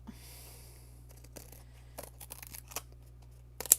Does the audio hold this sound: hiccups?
no